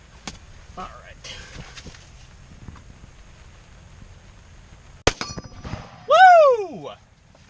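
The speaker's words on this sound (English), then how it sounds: "I'm going to shoot at the 10-inch gong out there." A 30 caliber rifle shot strikes a 10-inch steel gong at an outdoor range: a sharp crack followed by a loud, ringing metallic clang that decays over about a second, after quieter handling noises.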